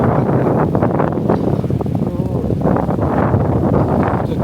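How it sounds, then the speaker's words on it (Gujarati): Loud, blustery wind buffets the microphone throughout, a constant rumbling roar with gusts rising and falling. "પવન બહુ છે"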